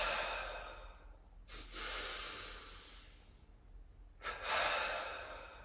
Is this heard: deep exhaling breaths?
yes